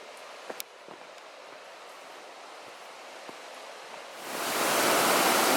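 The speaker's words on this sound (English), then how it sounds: "What a beautiful set of waterfalls." Steady rushing water from a set of waterfalls at Saddleback Falls beside a swimming hole, a constant hiss that swells suddenly louder near the end, with a few faint knocks over the roar.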